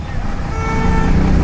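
An APSRTC bus pulls out of the Tenali market point bus stand, its engine rumbling under busy traffic noise and a horn toot, with people talking around it.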